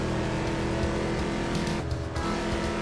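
Car engine roaring steadily in the night-racing Turbo Outrun video game, loud and continuous, with a tire squeal or skid swelling briefly near the end.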